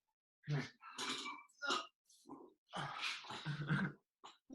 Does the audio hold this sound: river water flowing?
no